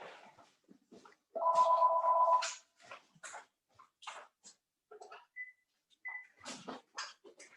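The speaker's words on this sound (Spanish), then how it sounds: "esperen que voy a atender el teléfono." A telephone rings once in a steady electronic burst lasting about a second, standing out over a quiet classroom-like space with scattered faint noises and brief voices around it.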